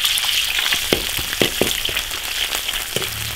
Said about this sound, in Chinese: 再烧点干净油，把肉炒一下。